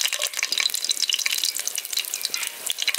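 Nigella seeds and torn green chillies sizzle in hot oil, a bright, busy crackle of fine pops and spatters that keeps up continuously and fairly close.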